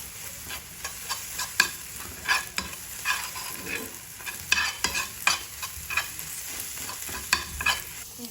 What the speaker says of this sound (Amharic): እንቁላሉ በደንብ እስከሚገል እንጠብቃለን ማለት ነው።